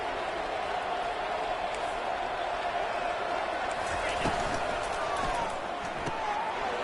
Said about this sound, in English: this crowd is electric trying to stop them